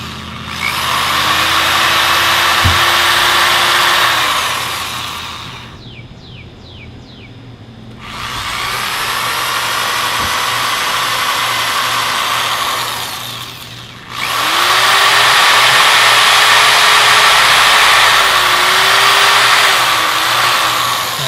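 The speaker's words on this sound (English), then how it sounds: "it's clogging the drill up more" A power drill whirs in three long bursts with short pauses between, loud and close, its pitch sagging slightly as it bites into wet Chinese elm wood that clogs the bit.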